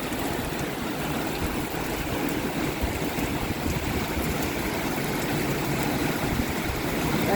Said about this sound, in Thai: ลมแรงกดแรงมากเลยค่ะฟ้าแรงด้วย